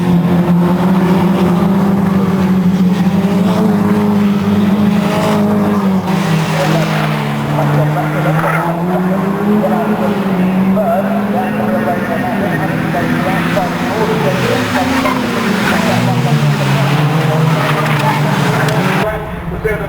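A pack of race cars drives hard around the Knockhill circuit, engines droning and shifting in pitch with occasional tire squeal, loud and continuous under a commentator's voice.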